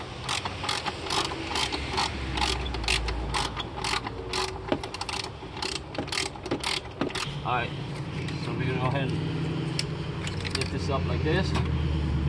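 Ratchet with a deep 13 mm socket clicking repeatedly while removing spark plugs on a Chrysler Pacifica, a steady close run of sharp mechanical clicks with brief talk.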